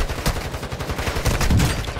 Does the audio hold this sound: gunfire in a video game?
yes